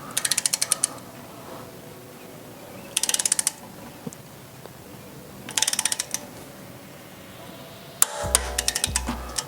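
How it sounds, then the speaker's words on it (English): Wheel studs on a BMW G80 M3 being torqued down with a ratcheting wrench, three short bursts of rapid metallic clicks separated by quiet gaps, then a final clatter and clunk near the end. "I'm just torquing them down right now."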